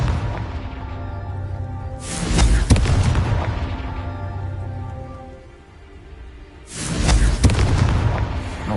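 Two booming fiery blasts from the Confringo spell in Hogwarts Legacy, each a loud burst with a crackling, rain-like tail that fades over a couple of seconds, set against steady game ambience.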